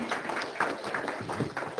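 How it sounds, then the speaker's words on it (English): At a driver meeting, an audience gives a speaker a round of applause, a brief burst of scattered clapping heard up close with some murmur mixed in. "Let's give him a round of applause."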